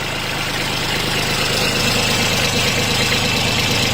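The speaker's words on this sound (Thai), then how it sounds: "เครื่องเล็กๆนะครับตัวนี้เครื่องสามสูบ เครื่องดีนะครับ" A used Kubota B2140 tractor's small three-cylinder engine idles with the hood open, a steady, even, continuous rumble and chug at close range, unbroken and without talk.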